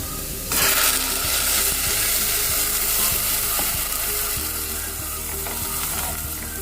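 Hot water is poured into a pan of frying lentil soup, setting off an abrupt loud hiss that settles into a steady close sizzle with faint rhythmic clicks of stirring.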